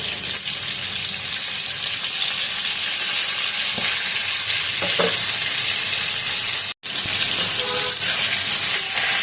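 Parboiled potato and cauliflower pieces fry in a pan of hot oil, a loud, dense, continuous sizzle close up, with a few faint clinks of stirring near the end.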